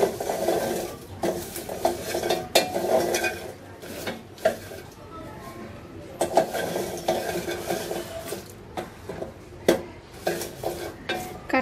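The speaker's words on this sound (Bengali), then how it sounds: "বিচিগুলো আমি একটু নেড়ে নেড়ে ভেজে নিব" Jackfruit seeds being stir-fried in a pan, with a spatula scraping and clacking against metal in irregular bursts over a soft, continuous sizzle for several seconds, near and fairly loud.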